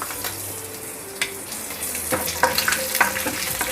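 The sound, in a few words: mustard seeds sizzling in hot oil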